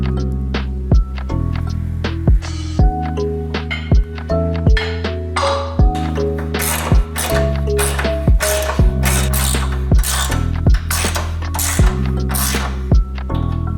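A ratchet wrench bolts down the sway bar brackets on an Eclipse under restoration, giving close, loud bursts of rapid clicking that repeat in steady strokes with no talk.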